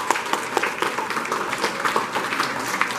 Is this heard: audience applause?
yes